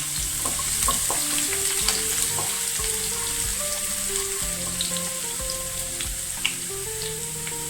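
Chopped garlic, about five cloves, frying in hot oil at the start of a chicken vindaloo, a steady close sizzle with occasional pops and crackles throughout, with faint music playing underneath.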